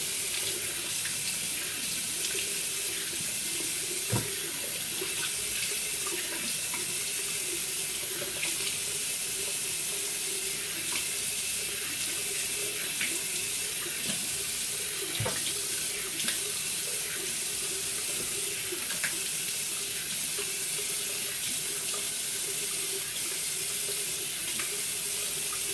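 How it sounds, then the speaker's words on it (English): Steady stream of water running from a tap into a sink, continuous and even throughout with faint clicks, no voices. "Run that cold water."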